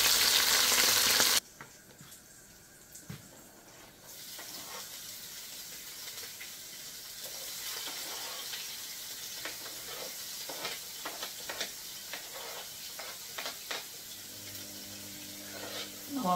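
Seasoning frying in a pot gives a soft, steady sizzle and hiss with scattered faint pops and clinks, quiet and close, after a brief louder burst at the start.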